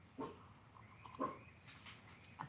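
A pet dog named Sadie barks out on a morning porch during coffee, two sharp yelps about a second apart over soft background noise, the second slightly stronger, with a faint further call near the end.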